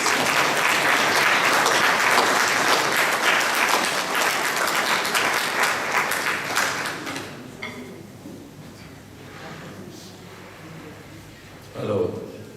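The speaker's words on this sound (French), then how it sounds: "Applaudissons les personnes." Audience applause rises loud and dense at a diaspora community gathering, sustained for several seconds before thinning out into scattered claps and room noise, with voices in the background.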